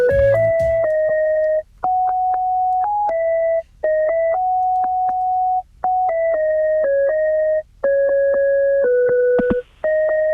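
A synthetic, beepy mobile phone ringtone plays a tune in steady tonal notes, looping in phrases separated by short pauses.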